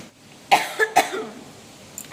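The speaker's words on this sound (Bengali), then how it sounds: "এত কাশি হচ্ছে" Someone coughs three times in quick succession, close and fairly loud, followed by a faint throat sound in a quiet outdoor setting.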